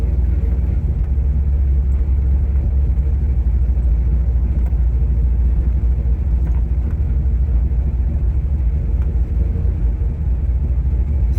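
An old vehicle cruising at about 25 mph after years off the road, its automatic transmission shifting early and throttle sticky, giving a loud steady low engine rumble and road drone heard from inside the cab.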